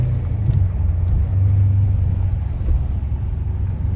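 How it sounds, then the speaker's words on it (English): A 2020 Dodge Challenger 392 Scat Pack V8 gives a steady, deep exhaust rumble at cruising pace, a low droning burble heard from close by with no talk over it. "But really nice sounding exhaust."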